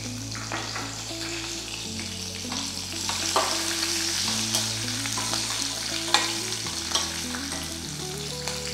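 Peanuts, green chilies and curry leaves fry in hot oil for lemon rice, a steady loud sizzle and crackle with stirring scrapes and occasional sharp pops, close by.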